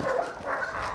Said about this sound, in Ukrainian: поліція пускає службову собаку